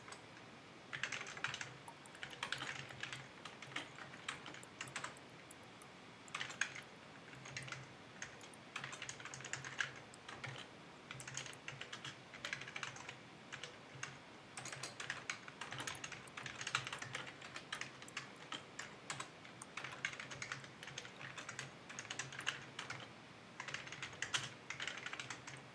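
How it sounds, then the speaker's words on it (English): Someone types steadily into a notes file on a computer keyboard, a long run of quick, irregular key clicks with short pauses, close but fairly quiet, and no talking. "I'm gonna start typing in a notes file"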